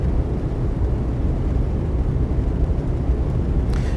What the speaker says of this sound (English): all you've got is the drone of the engine